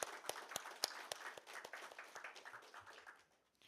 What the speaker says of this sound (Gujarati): એકવાર જોરદાર તાળીઓથી એમને વધાવી